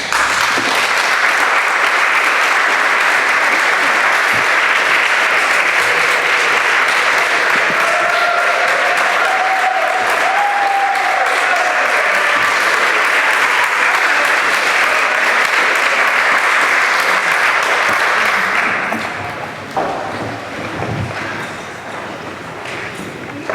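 People in a council chamber break into sustained, loud applause after a unanimous vote on a landfill matter; the clapping stays dense for about nineteen seconds, then thins to a few scattered claps and quiet room noise.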